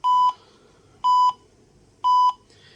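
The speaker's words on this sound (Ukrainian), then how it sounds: "Сигналізація на 30 мікрорентген. Тут зараз встановлена. От, спрацювала, включилась сирена." A Geiger counter dosimeter with its alarm set at 30 microroentgen sounds three loud, evenly spaced electronic beeps about a second apart, each lasting roughly a quarter second.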